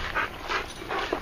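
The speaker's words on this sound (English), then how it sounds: "There's some dogs now, so I think we're in the right place." Dogs at the ocean beach give short, soft yips and whimpers, several brief calls at a distance over a constant wash of surf and wind noise.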